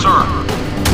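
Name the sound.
helicopter missile launch in Modern Warfare video game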